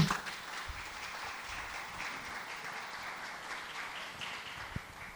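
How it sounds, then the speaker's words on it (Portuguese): Applause from a studio audience on a Brazilian talk show, moderate and even, with no talk over it and a single sharp knock near the end. "Uma salva de palmas, gente"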